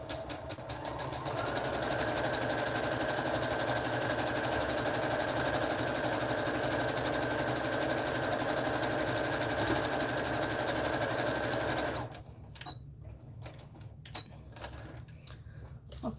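A sewing machine runs steadily while stitching pajama pants, giving a continuous mechanical whir and hum for about twelve seconds before stopping, after which a few faint clicks and handling sounds follow.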